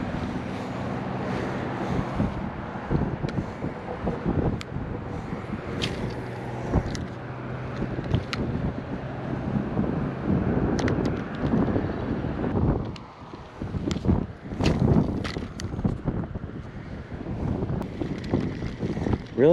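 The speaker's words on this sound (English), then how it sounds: "Right here, I'm slightly more out of the wind." Steady wind buffets the microphone on a beach at Tybee during surf fishing after Hurricane Ian, a continuous rough rumble with gusty swells and crackling bursts, no voices.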